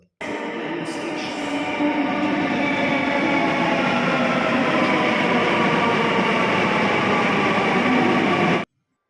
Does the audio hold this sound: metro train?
yes